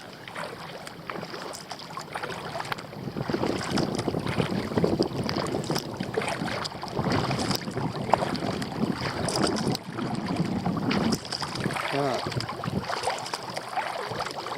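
Continuous rushing wind buffeting the microphone while kayaking on Lake Superior, swelling and easing in gusts, with a broad noisy roar and water sounds beneath.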